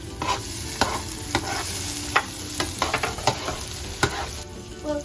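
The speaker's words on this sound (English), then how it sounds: "Now let's saute garlic, onions, and tomato." Garlic, onions and tomato sautéing in a pan for ginisang sayote, with a spatula tapping and scraping in irregular sharp knocks over a steady frying hiss, close up.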